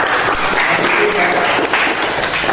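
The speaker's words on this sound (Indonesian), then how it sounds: "Tepuk tangan untuk semuanya." Sustained applause from a group in a classroom lesson, a dense, steady wash of many hands clapping at close range for the whole stretch, with no pauses.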